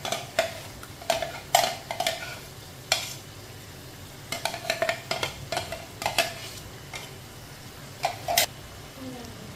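Intermittent scrapes and clinks of a spoon stirring ground spinach into aloo palak in a pot, coming in short bursts and clusters against a quiet background.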